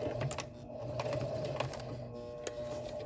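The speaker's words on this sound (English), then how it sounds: "So I'm going to do a reverse stitch here" Kenmore 385 series sewing machine running a reverse stitch with a zipper foot, giving a steady close mechanical whir with rapid needle ticking throughout, no talk.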